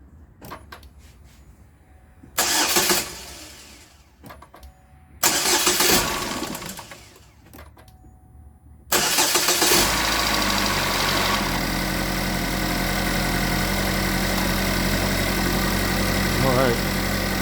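Car engine with a P0011 camshaft timing code, after fresh VVT sensors, oil control valves and spark plugs: two short cranking bursts, then a third crank catches into a steady loud idle, with a person talking during the quiet gaps.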